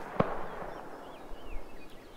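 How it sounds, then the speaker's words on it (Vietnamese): A single faint gunshot cracks in the distance in the survival video game Rust, one sharp pop near the start followed by quiet ambient background. "anh em ơi, có tiếng súng ở gần đây"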